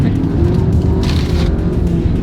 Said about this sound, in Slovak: Tu počujem všetko spredu, normálne motorický zvuk